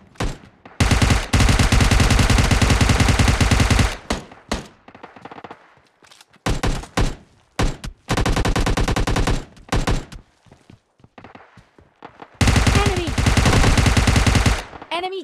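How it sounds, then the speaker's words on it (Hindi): Loud bursts of rapid automatic gunfire come in long sustained volleys separated by short pauses, with scattered single shots between them. "आगे से कोई गोली चला कर मुझे बुलावा दे रहा था"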